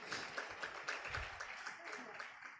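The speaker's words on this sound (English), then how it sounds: "Another round of applause for her, please." Audience applause at a fintech conference after a keynote, a brief, moderately loud burst of clapping that gradually thins out toward the end.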